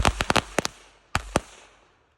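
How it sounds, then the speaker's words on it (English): Adult popper firecrackers go off in a quick burst of six or so sharp cracks, then two more pops after a short pause, each fading into a brief echo. "he's gonna light off some adult poppers"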